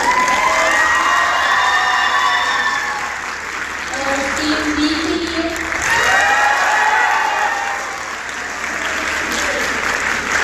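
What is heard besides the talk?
audience applause for debate teams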